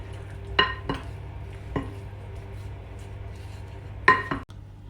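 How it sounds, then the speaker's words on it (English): A utensil stirring raw chicken seasoned with all-purpose seasoning and chili flakes in a bowl, a few scattered clinks and knocks against the dish over a low steady hum. "I'm going to stir this together"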